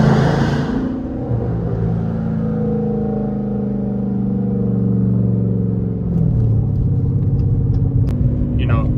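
A Dodge Challenger R/T idles with a deep rumble in an underpass, then a short throttle blip raises the V8 note before it settles back, with a few faint clicks afterward.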